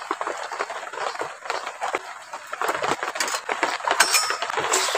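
Fish pieces slid back into hot oil in a pan for frying, a dense steady sizzle and crackle with bright spattering pops, close and continuous with no voices.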